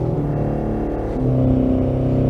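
Full church organ in St Bart's, Wilmslow, with the 32-foot quinting pedal note gives a deep sustained rumbling drone under held chords, loud and close with no voices.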